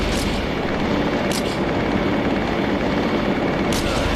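A steady, dense roar like aircraft engines droning continuously in the video game The Police, loud and broadband, with a few faint sharp bursts over it.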